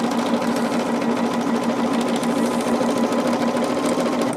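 Sewing machine stitching fabric, a loud, steady rapid mechanical whir and clatter running continuously without a break.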